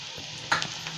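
Tomato chutney seasoned with salt and a little sugar sizzles in a pan, with a steady low fry and a brief burst of louder scraping and stirring midway, no voices.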